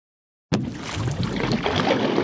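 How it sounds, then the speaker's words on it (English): A small boat moving on water, with steady rushing and splashing wash that starts abruptly and continues loud and broadband, mixed with wind-like noise. "I am a boat."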